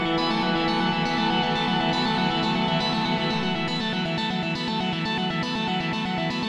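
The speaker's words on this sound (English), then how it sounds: "playing both the electric piano and synth together" Sustained electric piano chords layered with a synth pad, washed in heavy reverb, playing continuously without voices.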